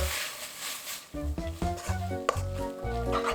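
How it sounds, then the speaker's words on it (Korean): Dried shredded squid stir-fried with a spoonful of mayonnaise over medium heat, a steady sizzle and scraping stir in a pan, with a short pause before rhythmic tossing resumes; a voice speaks over it. "오늘은 진미채 볶음을 만들 건데 마요네즈 1숟가락 넣고 볶아줍니다"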